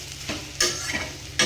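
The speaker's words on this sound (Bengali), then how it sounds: "আর অনেকটাই হয়েছে ডিম ভাজা" Fish roe frying in a small amount of oil, a continuous close sizzle broken by three sharp bursts as it is stirred or turned in the pan, with no talk.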